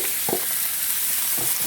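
Shrimp, about a pound, dropped into a hot pan with garlic, a loud, steady close sizzle with two brief low clunks of stirring or pan contact, no speech.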